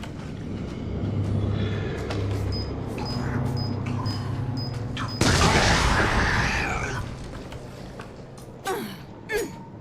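Grenade explosions in the survival horror game Resident Evil 7: a loud, sudden boom with a long roaring blast tail over tense game ambience and steady tones, then a couple of sharper thuds near the end.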